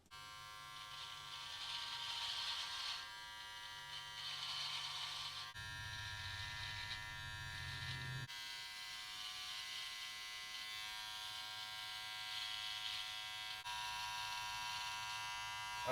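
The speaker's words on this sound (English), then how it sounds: "Let's go ahead and start with our little trimmer right here and get this neckline and beard line" Small electric beard trimmer working along a neckline and beard line, a steady close buzzing hum that drops in pitch and softens briefly as the blades press into hair, with no speech.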